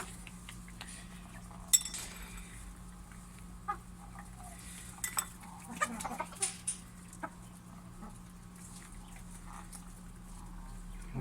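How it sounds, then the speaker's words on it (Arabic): Chickens clucking faintly amid poultry and pigeons, scattered soft calls and small metallic clinks over a steady low hum, quiet and somewhat distant. "شوف الدجاج يعني ما شاء الله."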